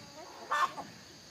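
Local free-range farm chickens kept in a house give a brief, moderately loud cluck over quiet background, a single short call followed by a faint second note.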